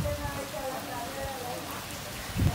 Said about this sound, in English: Look at, there's rain.